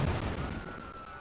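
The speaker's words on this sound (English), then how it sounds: "Those are a lot of rockets." Rockets firing in Civilization V: a dense, rumbling barrage of booming blasts that fills the short stretch, heavy at first and then easing into a lingering roar with a faint steady tone above it.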